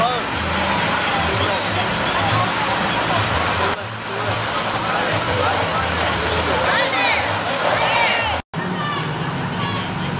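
A firefighter's hose sprays a steady, loud stream of water against a person sitting in a plastic pool outdoors at a fireman's day event, a continuous rushing and splashing with crowd chatter beneath and a brief cutout near the end.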